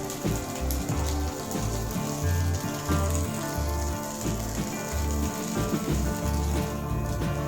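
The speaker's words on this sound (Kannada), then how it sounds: "ಇದನ್ನು ಸ್ವಲ್ಪ ಹೊತ್ತು ಫ್ರೈ ಆಗಲಿಕ್ಕೆ ಬಿಡಿ" Egg-dipped bread frying in a pan for French toast, a dense, steady sizzle like close rain with crackling pops throughout and no talk.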